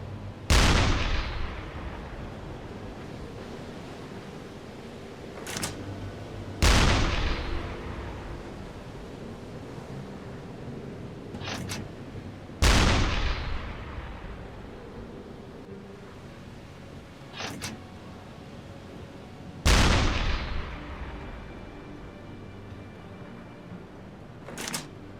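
Submarine deck gun shots in the naval video game UBOAT, four heavy booming blasts spaced roughly six seconds apart, each with a long rumbling decay over a steady sea-like background.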